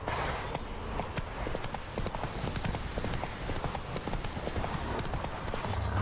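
Roach, a horse in the video game The Witcher 3, gallops with a steady, rapid clip-clop of hooves. The hoofbeats are loud and close over a dense, continuous background of game ambience.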